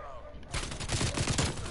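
Rapid automatic gunfire rattles in a dense burst in the game Black Ops Cold War, starting abruptly and continuing loud and close to the end.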